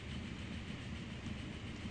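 A train in the transport simulation game Transport Fever rumbles past with a continuous rolling drone and faint rhythmic clatter, steady and fairly loud throughout.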